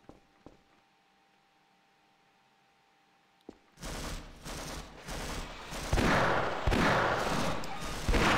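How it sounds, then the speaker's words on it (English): Gunfire aimed at the player in the Half-Life video game, rapid bursts of shots starting after a quiet stretch and growing denser and louder toward the end. "Would people stop shooting me?"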